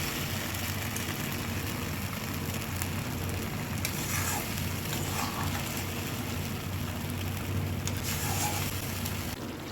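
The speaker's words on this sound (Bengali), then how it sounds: "ঝোলটা ফুটে উঠেছে ভেজে রাখা মাংসগুলো আমি এর মধ্যে দিয়ে দিচ্ছি" Chilli chicken sauce bubbles at a steady boil in a pan as pieces of fried chicken go in, giving a continuous low sizzling simmer with faint clinks, no talking.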